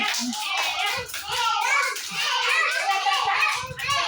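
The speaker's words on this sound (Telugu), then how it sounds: "మేడం మేడం అని క్లాప్స్ కొట్టరు అందరూ" A group of young children in a classroom claps hands in quick, uneven bursts while their voices chatter and call out over and between the claps.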